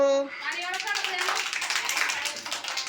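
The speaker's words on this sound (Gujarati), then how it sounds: "તાળી વગાડો" Children clap their hands together at an activity session, a quick run of sharp claps following a short sung tone, loud and close with young voices chattering underneath.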